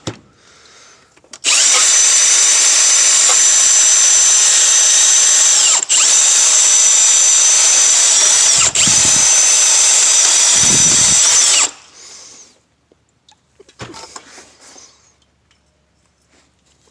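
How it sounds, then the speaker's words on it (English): A power drill cleaning rusted metal on a Toyota 3.4L engine during timing belt replacement whines loudly and continuously for about ten seconds with brief dips, then stops, leaving faint scraping and quiet clatter. "We'll go ahead and get the drill and clean this up."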